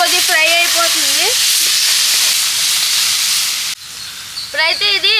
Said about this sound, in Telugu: సరే చూడండి దానికి ఇదే కొద్దిగా ఫ్రై అయిపోతుంది.